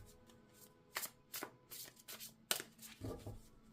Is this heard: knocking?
no